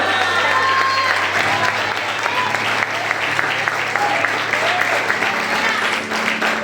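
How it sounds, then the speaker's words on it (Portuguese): A church congregation at a morning service claps together in sustained applause, broad and loud throughout. A low steady hum runs underneath, and faint voices call out over the clapping. "aplauda o Senhor essa manhã"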